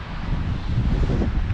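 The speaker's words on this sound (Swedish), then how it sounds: "Det regnar och blåser ruggigt." Heavy, low wind with rain buffets the microphone with a constant rough roar, a brief stretch of blustery outdoor noise in Uppsala, Sweden.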